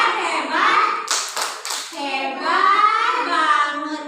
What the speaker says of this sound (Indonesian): Tepuk hebat dulu sama Abang Kenan.